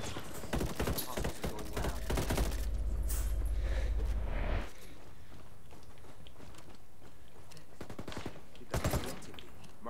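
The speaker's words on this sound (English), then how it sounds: "I'm under heavy fire." Bursts of rapid gunfire crack and rattle in a Ghost Recon Wildlands PvP firefight, a dense volley for several seconds and then scattered shots, with voices talking now and then.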